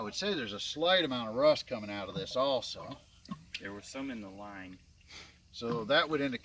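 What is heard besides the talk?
No everyday noise stands out behind the speech.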